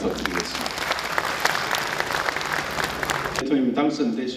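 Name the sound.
audience applause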